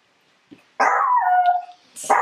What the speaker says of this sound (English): the dog's giving him a very vigorous greeting